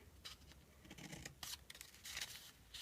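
Scissors snipping through the fabric of a small Halloween treat bag, a handful of quick, crisp cuts close up and soft, with no voices.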